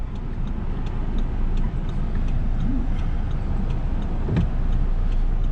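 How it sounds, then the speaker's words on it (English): A 2008 Audi TT coupe's 2.0-liter engine runs steadily in traffic, heard through an open window as a low, continuous hum with faint ticking and road noise, no talking. "roll the window down for a minute so we can let y'all hear the engine"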